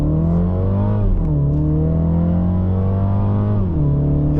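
A 2023 MINI Cooper Countryman S accelerating hard at full throttle, engine note climbing loud and steady from inside the cabin, with one clear dip at a gear change before rising again.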